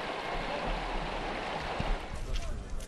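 Rushing river water at a border crossing, a steady broadband roar of fast-flowing current that stays loud and continuous throughout, with no voices.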